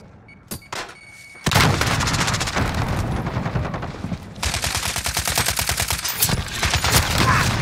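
Video game gunfire: a few isolated shots, then a long rapid automatic burst, a short pause and another sustained rattling volley, loud and close.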